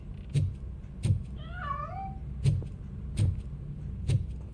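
A cat in RoboCop: Rogue City gives one clear, wavering meow in the middle, set against a steady game ambience that is broken by repeated low thumps.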